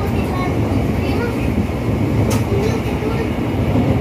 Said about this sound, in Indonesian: Dan ini keretanya mau jalan, guys.